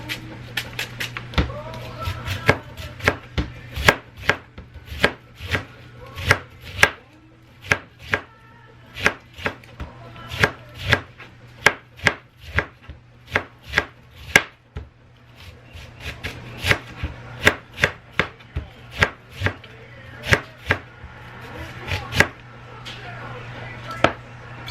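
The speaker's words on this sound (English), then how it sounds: "I'm going to go ahead and chop some onion" A knife chops onion on a cutting board in a home kitchen: sharp, irregular thuds in quick bursts with brief pauses, close and crisp over a low steady hum.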